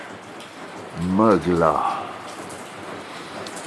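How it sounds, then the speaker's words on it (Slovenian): Steady rain falls across the whole stretch, a soft broadband patter heard under a brief burst of talk in the middle. "Kako paše dež"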